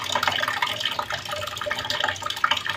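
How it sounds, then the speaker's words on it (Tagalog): Tap water pouring and splashing into containers as they fill, a steady running stream with small clinks and drips, close and fairly loud with no talking. "Maaga pa ako nag-ipon tubig."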